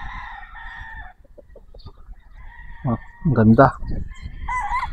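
A gamefowl broodcock rooster at the Firebird gamefarm crows loudly and close by, with clucks and short bird calls around it, while someone talks briefly.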